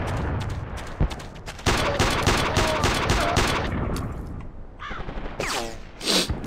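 Rapid automatic gunfire in the video game Iron Storm, loud bursts of close shots rattling in quick succession, then a pause and a few more scattered shots and effects.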